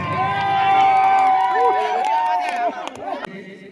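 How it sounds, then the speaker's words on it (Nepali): Crowd applause and cheering for the winner of a contest at a New Year Deusi Bhailo celebration, a dense, steady wash of clapping mixed with a sustained musical tone and crowd noise that thins out toward the end. "कृपया जोरदार थपडी मारिदिनु होला उहाँको लागि"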